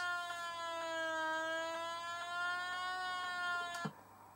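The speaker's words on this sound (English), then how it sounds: "In space, no one can hear your space sirens." Synthesized space siren from The Fabulous Wanda on the Commodore 64, a bright buzzy tone with many harmonics that slowly dips and swells in pitch with regular pulses, heard alone and ending in a brief click near the close.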